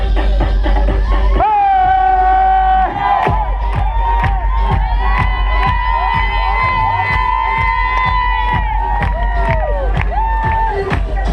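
A large crowd at the Grand Raid race on Réunion cheers and shouts loudly while rhythmic clapping beats steadily throughout, with a high voice or whistle carrying over the din.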